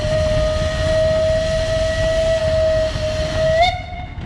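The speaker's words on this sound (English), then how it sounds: "that's a Piercing whistle there" A loud, piercing steam engine whistle at a vintage power parade sounds one long sustained tone, then bends sharply in pitch before cutting off.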